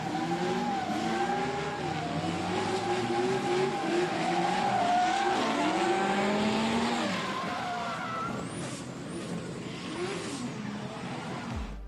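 Drift cars battling head-to-head in a drift competition, engines screaming at high revs with long, loud tire squeals as they slide through transitions, one driver using the handbrake; continuous roar with sharp squeal sweeps toward the end.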